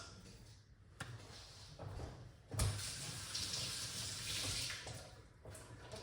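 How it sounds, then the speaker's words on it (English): Water runs steadily from a kitchen tap while hands are washed during carrot dumpling preparation, a soft continuous hiss and splash with a few brief clunks, fairly quiet and close. "make sure you wash your hand"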